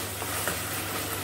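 Spices sautéing in hot oil for a Bengali vetki (barramundi) fish kalia, giving a steady, even sizzling hiss that holds at a moderate level throughout, with no voices.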